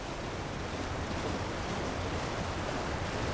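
Rushing waterfall in the video game Elden Ring Shadow of the Erdtree: a steady, dense roar of falling water that holds at an even level throughout, with no voices over it.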